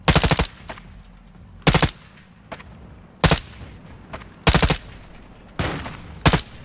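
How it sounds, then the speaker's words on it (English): Five loud, spaced bursts of RPK machine gun fire in the video game DMZ crack out at steady intervals, each a short sharp volley standing clear above a low ambient rumble. "No way I hit that dude with the RPK that far away."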